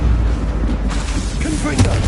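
A Confringo blasting spell goes off in Hogwarts Legacy, a short booming burst within ongoing combat noise, with a voice speaking over it.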